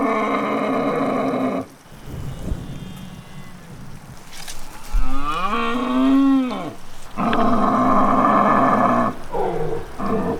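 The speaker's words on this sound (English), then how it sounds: "He was roaring backwards and forth to the dominant stag across the river." A red deer stag roars during the rut in wilderness bush near a river: a long, moaning bellow with a rising and falling pitch, framed by loud, broad noise before and after.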